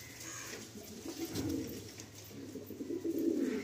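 Malwai pigeons coo at a pigeon sale, soft low throaty rolling coos heard twice at close range over faint background hiss.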